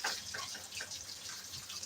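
Water rinses out farm equipment during cleaning, a quiet, continuous spray and splashing with uneven pulses of pressure. It sounds close and steady, with no voices.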